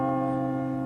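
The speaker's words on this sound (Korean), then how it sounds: "42번의 종소리" A church bell, one of 42 tolls, holds a single sustained ringing tone with steady layered overtones. It is fairly loud and heard alone, with no voices.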